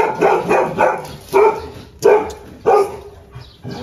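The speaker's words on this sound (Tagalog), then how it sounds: "Nagwawala si Winter ko. May nakita sigurong aso" A dog in a garden barks repeatedly at close range, with loud, rough barks coming in a steady rhythm of about one every half second, plus a few yips.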